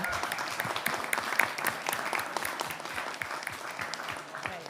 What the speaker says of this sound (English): a huge round of applause for our speakers